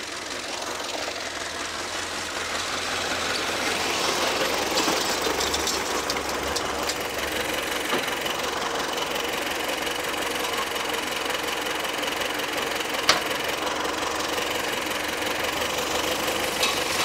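Tractor engine running steadily while driving with a SZ-3.6 seed drill in the field, a continuous loud mechanical drone with knocking rattle throughout, no talking.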